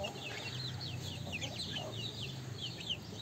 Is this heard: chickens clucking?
yes